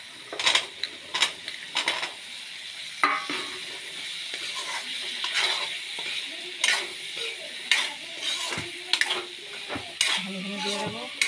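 Potatoes dropped into a hot frying pan in a home kitchen, sizzling softly beneath repeated scraping and stirring clatter of a utensil against the pan, with short metallic knocks scattered across the stretch.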